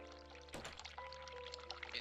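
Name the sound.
hot water pouring at a sink in The Cat Lady video game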